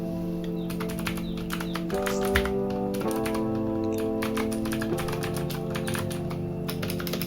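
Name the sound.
mechanical keyboard blue switch keys clicking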